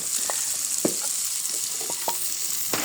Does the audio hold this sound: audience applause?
no